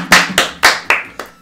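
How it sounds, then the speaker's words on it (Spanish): Applause from a live audience: five sharp bursts of hand clapping, loud and close, each fading quickly, with no talking. "¡Un aplauso!"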